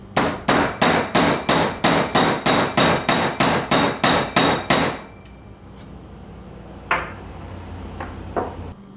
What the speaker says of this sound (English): we're slowly tapping this in